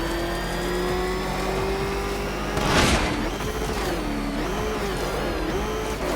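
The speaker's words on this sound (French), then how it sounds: "Est-ce que ce vieux moteur peut supporter ça?" Old car engine in the video game Batman Arkham Knight, a steady droning motor hum with a brief surging burst of revving midway, then the engine note wavering up and down as it settles back.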